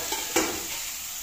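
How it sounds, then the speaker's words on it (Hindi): Garlic frying in a pan for a dhaba-style urad dal tadka gives a steady, soft sizzle, with one brief clink of a utensil against the pan partway through. "ये देखिए लहसुन अच्छा भुना हुआ लग रहा है ना, तो अच्छा भुन जाए और फिर हम ये प्याज इसमें भून लेंगे।"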